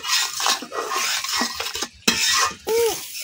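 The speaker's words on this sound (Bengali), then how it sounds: "এখন আমি মশলাটা কতক্ষণ কষাই নিলাম।" A spice paste of chili and coriander powder fries in a pan, with a broad, steady sizzle broken by a spoon scraping and stirring against the metal and a couple of brief pauses.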